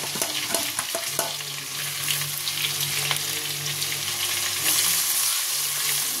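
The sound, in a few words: crushed ginger, garlic and green chilli frying in oil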